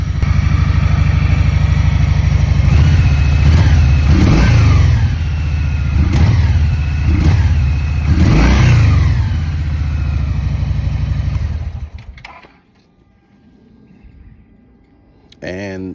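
Motorcycle engine running loud and close after a cold start, rumbling steadily with several sharp throttle blips, then cutting off into near silence before a brief return of noise at the end.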